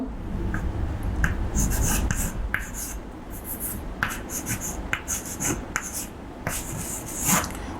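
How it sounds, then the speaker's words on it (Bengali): A pen or chalk scratches out an equation during a political science class, with short scraping strokes, taps and pauses, close and clear and without speech. "আমি লিখছি একটা সমীকরণ"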